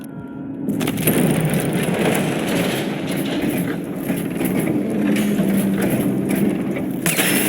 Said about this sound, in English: This playback indicates that the machine is waking up.